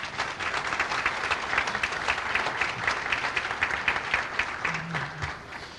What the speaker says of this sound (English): let's give him a great warm applause.